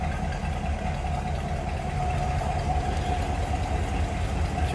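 A 1956 Ford Fairlane Crown Victoria idles with its exhaust exiting through the rear bumpers, giving a steady, continuous low rumble at an even level with no voices.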